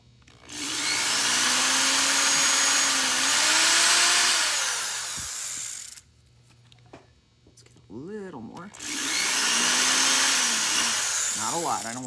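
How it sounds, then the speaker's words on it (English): A power drill whirs loudly and steadily for several seconds while boring through a wooden drawer front for pulls. After a short pause with brief speech, it starts again for another long run. "drill through like I did with the other one."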